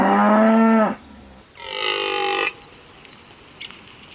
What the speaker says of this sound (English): Cows are herbivores, have 2 horns and vary in color, size, and